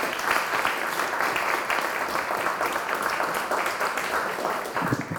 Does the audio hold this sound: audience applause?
yes